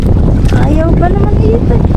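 Strong wind buffets the microphone out on the water from a moving boat, a loud, continuous roar and rumble, with a voice speaking briefly over it.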